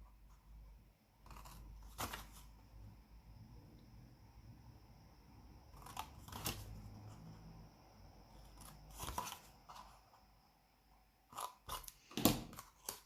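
Scissors cutting folded paper for a scrapbooking gift box, several sharp close snips in separate bursts with quiet pauses between them, and a quick cluster of cuts at the end.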